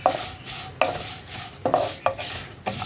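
Semiya vermicelli being stirred in a pan for creamy payasam, with about five rhythmic, close stirring strokes and light metallic scrapes of the spoon against the pan.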